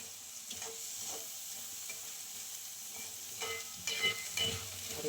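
Rice being stirred in a pan with ghee tempering and cumin, a steady soft scraping and sizzle throughout, close and moderately loud, with a couple of sharper clinks of the spoon near the end.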